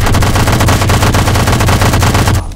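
Automatic gunfire in the video game Fallout 3, a loud, rapid, continuous burst of shots in close succession that cuts off abruptly at the end.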